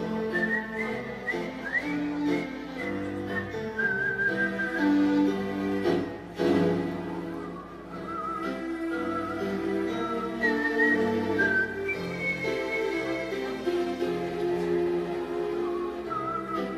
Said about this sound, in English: I'm gonna need your help to do a little bit of whistling.